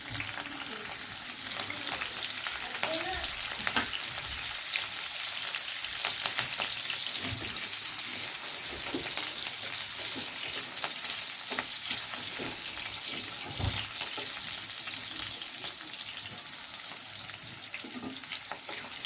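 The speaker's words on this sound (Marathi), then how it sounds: "कढईमध्ये आता तेल गरम झालेलं आहे. सुरुवातीला आपण मिरचीचे स्लाइस टाकूया." Green chilli slices fry in hot oil in a kadai, giving a loud, steady sizzle throughout with occasional stirring clatter and no voices.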